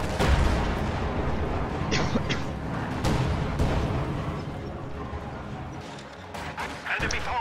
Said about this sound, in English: devastating rifle grenade